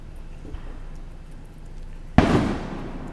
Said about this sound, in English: Who can set off the biggest firework?